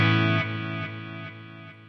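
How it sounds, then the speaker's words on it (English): Electric guitar played through a Walrus Audio Mako D1 delay pedal set as a modulated vintage reverb, four soft chord strums about half a second apart, each with a smeared, shimmering wash that lingers and slowly fades, played alone. "this turns us into a modulated vintage reverb"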